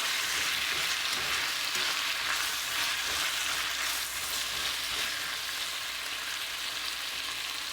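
Onions and tomatoes with a little salt sautéing in a pan for chana masala, giving a continuous dense hiss of frying that stays even and fairly loud throughout, with no voices.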